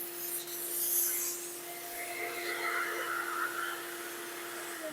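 A vacuum cleaner hums steadily nearby with a constant whine during loose tile replacement, while scraping and rubbing noises come and go over it.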